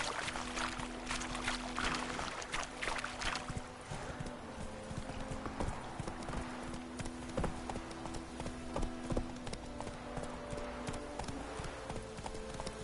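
A video game horse trots along at a steady pace, its hooves clip-clopping in a continuous rhythm, with faint ambient game sounds underneath.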